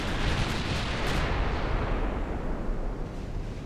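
Warship turrets firing in Ultimate Admiral Dreadnoughts, a 1917 Japanese fleet engaging at long range in mist: a sustained, loud, dense roll of booming naval gunfire with overlapping blasts and low rumble, fading slightly toward the end.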